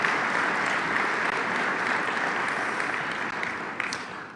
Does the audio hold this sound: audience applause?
yes